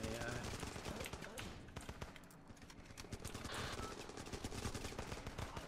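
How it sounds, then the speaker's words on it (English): Sustained rapid minigun fire in the military shooter game Running With Rifles, a dense continuous rattle of gunfire with other battle noise mixed in. "Holy crap, this AI has a minigun."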